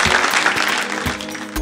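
A studio audience at a televised quiz competition claps for the contestants, a short burst of mixed clapping with a few sharp individual claps standing out.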